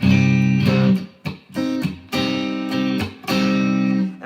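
Clean, undistorted electric guitar playing alone, sustained chords and notes with a little reverb, steady and close, with brief pauses between phrases.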